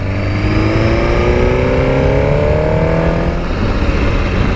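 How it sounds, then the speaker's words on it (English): A 2017 Suzuki GSX-R1000 sportbike engine while riding, a loud steady drone with rising pitch as it accelerates, mixed with wind rush. "Because this engine is so tractable and forgiving and the bike's so easy to ride"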